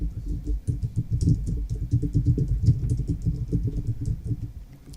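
Rapid keystrokes patter on a computer keyboard, a dense, steady run of soft clicks close to the microphone for a few seconds.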